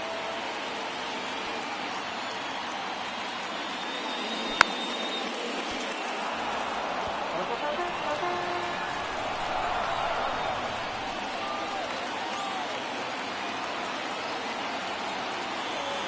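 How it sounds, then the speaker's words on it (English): Steady, dense crowd murmur from a baseball stadium in MLB The Show 23 fills the whole stretch during a tense ninth inning of a one-run Mets vs. Marlins game. One sharp tick stands out near the middle. "Crowd locked in right now."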